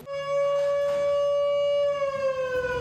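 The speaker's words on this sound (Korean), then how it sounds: "갑자기 부대 안에 비상 사이렌이 울린다." An emergency siren sounds inside a military special forces unit base during a readiness drill, one loud steady wailing tone held without a break for the whole stretch, with no voices.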